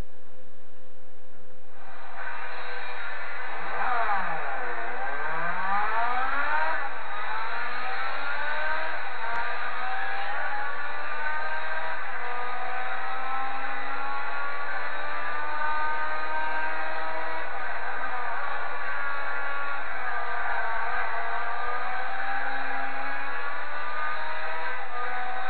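A Honda S2000 GT1 race car by Amuse in Gran Turismo 4 revs very high, its engine note climbing and falling through repeated sweeping pitch changes, loud and continuous for the whole stretch.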